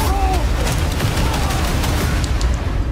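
Gunfire and explosions from the Deadpool & Wolverine movie trailer, loud continuous booms and bursts with a heavy low rumble, mixed with music and effects.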